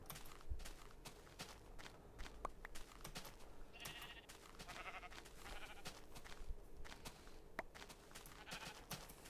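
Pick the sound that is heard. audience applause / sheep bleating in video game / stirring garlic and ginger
sheep bleating in video game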